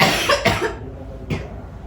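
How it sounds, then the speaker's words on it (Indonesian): Two sharp coughs, close by, with a short pause between them. "Vina batuk dan tereliminasi seperti yang lain"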